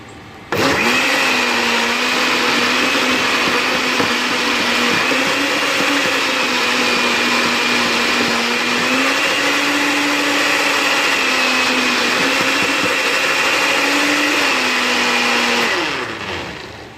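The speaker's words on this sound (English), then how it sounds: "Just a quick blend so we can have it mixed with the onion and the rest, ginger, garlic" Electric blender running continuously on onion, ginger and garlic, a loud steady whirring motor with a slight wavering pitch that starts abruptly and winds down at the end.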